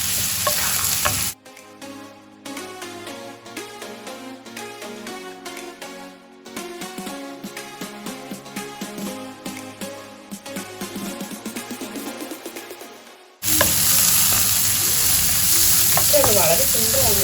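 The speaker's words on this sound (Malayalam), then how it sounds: "അടിപൊളിയായി സോട്ട് ചെയ്യാം." Garlic and curry leaves sauté in hot oil in a pan while cooking beef kondattam, a loud sizzle at the start and end with music playing through the middle.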